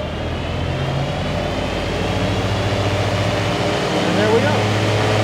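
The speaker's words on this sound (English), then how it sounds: "see, it's all the tractor wants to do at idle to start that mower." Compact tractor idling while starting its mower deck through the PTO, a steady low engine rumble that holds even and fairly loud throughout, with a person talking over it.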